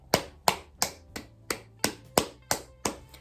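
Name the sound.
round of applause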